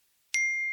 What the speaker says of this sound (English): So that deserves the exciting bell